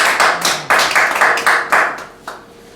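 A church congregation claps together in praise of the Lord, giving a loud series of roughly even, sharp hand claps that slow and fade at the end.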